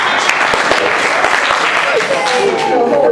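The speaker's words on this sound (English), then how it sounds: "Round of applause for me" Audience at a university freshers' debate applauding, a dense, steady wash of many hands clapping at close range, with a voice breaking through near the end.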